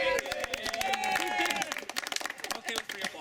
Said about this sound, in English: I'm okay with free applause.